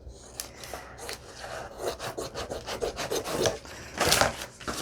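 Scissors cut through a card cover for a junk journal, giving close, uneven rasping snips and crunchy scraping strokes for several seconds with no talking.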